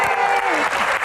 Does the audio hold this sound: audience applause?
yes